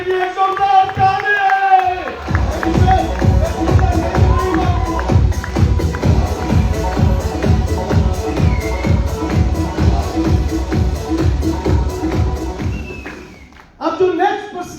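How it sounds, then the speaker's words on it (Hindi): An audience at a motivational seminar in Bhubaneswar breaks into loud, dense clapping for a guest after brief talk, the applause holding steady for about ten seconds before fading, with a voice speaking again at the end. "मैं चाहूंगा रतन सर के लिए एक जोरदार ताली।"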